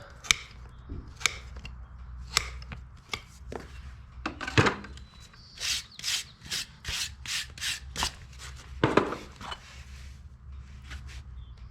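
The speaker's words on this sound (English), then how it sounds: "Give us a good platform for filing up our foot and rasping on it and making it level" A farrier works a rasp and file over a horse's hoof to level it, giving repeated rough scraping strokes in uneven bursts, close and fairly loud, with short pauses between passes.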